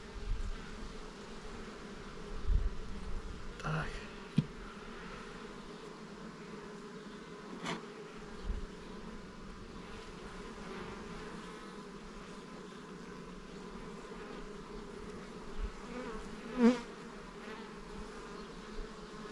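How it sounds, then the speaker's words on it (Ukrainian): Bees buzz continuously around the hives, a dense insect hum with occasional louder passes close by and a few soft knocks. "Працюють капітально бджілочки, як бджоли."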